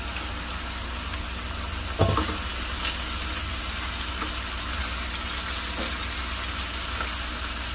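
Halved tomatoes frying in a mutton Shinwari karahi give a steady, close, dense sizzle throughout, broken by one brief clatter of cookware near the start.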